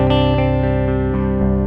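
An electric guitar plugged straight in as a dry DI signal with no amp plugin, played as sustained chords with a few quick re-picks, thin and clean, with no voices.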